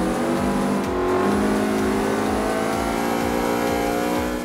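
A Mazda MX5 Cup race car in Forza 5 accelerates out of a corner, its engine buzzing steadily and rising in pitch through repeated gear changes, loud and constant with no voices.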